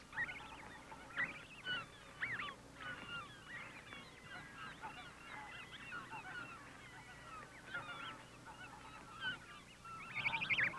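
Young snow goose goslings, orphaned, call in a quick chorus of faint, high honks and peeps, overlapping and continuous over a soft background, growing a bit louder near the end.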